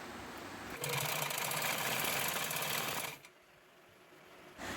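A sewing machine runs steadily and loudly stitching a palazzo, stops abruptly into near quiet, then starts up again at the end.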